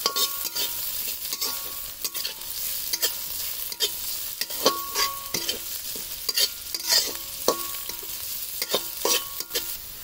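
Carrots being stir-fried for spring roll stuffing, with a steady sizzle broken by repeated sharp scrapes and clinks of a spatula stirring against the pan, close up and with no talking.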